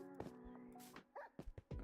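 Dogs bark and yip in the video game Minecraft, several short, quiet bursts scattered across the moment with soft game ambience between them.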